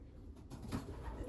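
Pigeons in a loft give a soft, low cooing murmur, faint and brief against quiet background noise.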